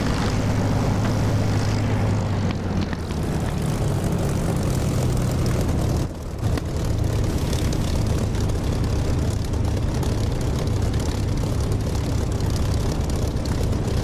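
Aircraft engine roaring at full power for takeoff in the DCS flight simulator, a loud, steady drone with a brief dip midway, no voices.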